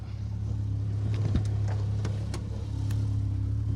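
A Peugeot 205 GTI rally car on an asphalt stage of the Manx National Rally on the Isle of Man, its engine droning steadily at moderate distance with brief rises and sharp transient clicks, no talking.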